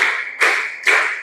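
A teacher-led classroom clap routine produces a steady run of loud, close hand claps, one roughly every 0.45 seconds, each with a bright attack and a lingering room echo.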